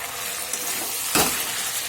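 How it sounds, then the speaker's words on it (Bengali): Homemade Bengali sukto sizzles steadily in a frying pan while being stirred, with a brief louder scrape and splash partway through, heard close up with no talking. "আর একটু নাড়িয়ে নেওয়া হচ্ছে।"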